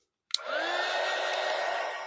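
A heat tool switched on with a click to dry paint on a pumpkin craft piece for a fall tiered tray, then a steady, close whirring blow that holds evenly until the end.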